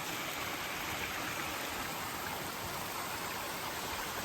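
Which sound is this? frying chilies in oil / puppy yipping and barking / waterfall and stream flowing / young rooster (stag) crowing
waterfall and stream flowing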